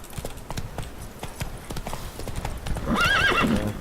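Roach, Geralt's horse in The Witcher 3, gallops with a steady clip-clop of hooves, then a close, loud whinny rises near the end.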